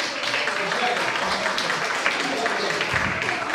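Crowd applause at a church celebration gathering, a continuous moderate wash of clapping with voices and chatter mixed in throughout.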